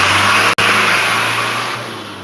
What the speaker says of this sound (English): That a car is passing.